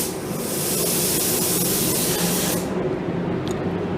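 Spray gun laying a coat of metal flake paint, a loud close continuous hiss that cuts off sharply near the end, leaving a quieter background.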